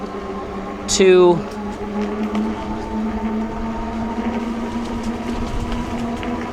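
Cyrusher Rumble electric bike ridden on pedal assist, a steady motor hum and rolling road noise throughout, with a short loud chirp early on and someone talking over it.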